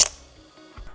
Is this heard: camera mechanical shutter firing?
yes